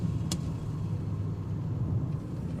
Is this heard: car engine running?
yes